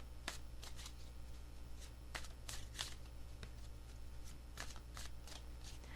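Close, soft riffling of tarot cards being shuffled by hand, quick papery bursts coming in small clusters with brief gaps, over a low steady background hum.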